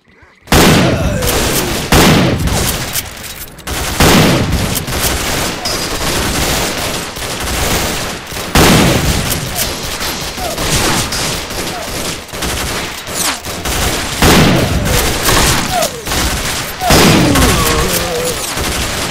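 Shotgun blasts boom repeatedly in STALKER: Call of Pripyat (Misery mod) amid a dense, loud fusillade of gunfire, shots arriving every second or two over a continuous noisy battle din.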